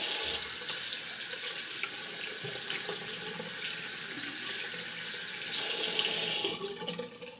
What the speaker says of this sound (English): I'm just going to go ahead and wash my hands so I don't get this powder all over my clothes.